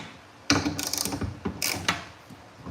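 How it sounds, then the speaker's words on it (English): Loosening the bed rail on a 2025 Toyota Tacoma pickup makes close mechanical clicks and ratcheting clunks, a few loud bursts with short pauses between them and no talking. "So, I'm gonna loosen the rail"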